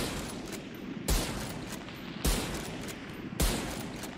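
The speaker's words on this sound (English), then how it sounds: "this is what it shoots like when you're scoped" A scoped sniper rifle fired in a video game, with three loud single shots spaced about a second apart and each followed by a trailing rumble.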